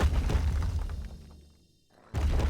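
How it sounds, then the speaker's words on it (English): Firework rocket boost used to launch a player in Minecraft, loud booming bursts that fill the clip before dropping off briefly and then surging back. "I did a firework jump."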